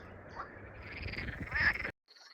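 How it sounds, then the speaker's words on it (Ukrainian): Frogs croaking by the Southern Bug river in a natural outdoor setting, a dense continuous chorus of croaks that swells louder before cutting off abruptly, with faint sound after. "пташки співають, жаби квакають, сонце світить"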